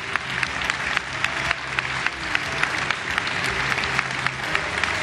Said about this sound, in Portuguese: Agora sim, um aplauso para todos os representantes,